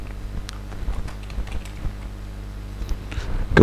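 Steady typing on a computer keyboard while entering data into SPSS, with rapid, irregular close keystrokes continuing throughout and no talking.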